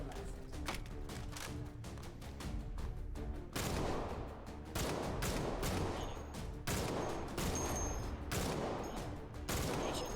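Gunfire in the VR shooter H3VR: dense, continuous bursts of rapid shots and fusillades at close range, loud and relentless throughout with a brief lull near the middle.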